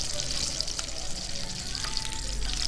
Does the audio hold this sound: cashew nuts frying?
yes